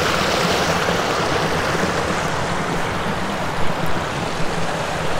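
A river runs over rocks at a wild camp spot in Galloway Forest, giving a steady, broadband rushing wash that stays close and constant throughout, with no voices over it.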